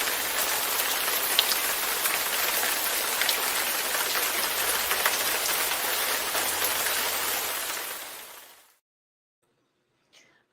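Steady, dense rain pours down loudly for about eight seconds as a uniform hiss, then cuts off abruptly into near silence, with one faint tick near the end.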